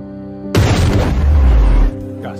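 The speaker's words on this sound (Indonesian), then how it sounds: "bom yang sebelumnya Heron pasang meledak dan memadamkan listrik" A bomb explodes in a World War II film scene, a single loud close blast with a deep rumbling boom that lasts over a second before breaking off abruptly.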